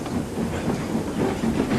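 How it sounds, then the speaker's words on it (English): A steam train pulls away on its rails into thickening fog, giving a steady, rhythmic chugging and clacking that holds at an even, moderate level throughout with no voices. "After everyone had been loaded on Thomas's train, they set off."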